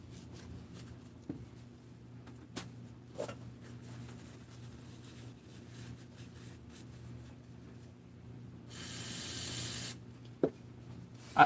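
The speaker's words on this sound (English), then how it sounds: "And brake cleaner basically on all the surfaces, that way it's" Aerosol brake cleaner sprayed onto engine crankcase surfaces during a chainsaw crankcase assembly, a steady hissing burst lasting about a second, moderately loud amid faint workshop background and occasional small clicks.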